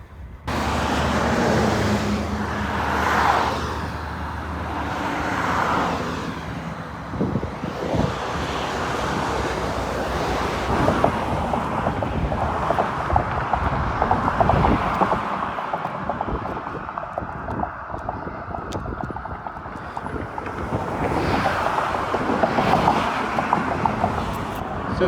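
Steady roar of multi-lane highway traffic and wind buffeting heard while cycling along a bike lane beside a seven-lane highway, continuous and fairly loud throughout with passing vehicle swells.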